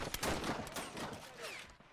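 Mortar and gunfire in a strategy video game about the 1919 German Revolution, Freikorps against Spartacists, with a rapid burst of sharp cracks and rumbling blasts packed into a dense barrage at moderate distance.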